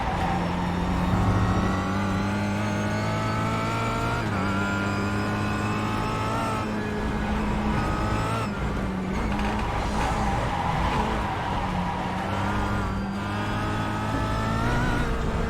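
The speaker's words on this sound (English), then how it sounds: "Race car go vroom indeed." Race car engine in iRacing sim racing, revving continuously with shifting pitch through corners over fifteen seconds, steady and fairly loud with no talking.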